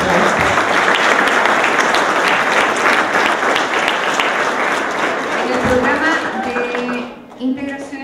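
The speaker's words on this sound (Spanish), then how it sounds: "También les quiero dar un fuerte aplauso." An audience at a school's public accounts presentation gives a loud, sustained round of applause that fades toward the end, with a voice speaking over the clapping.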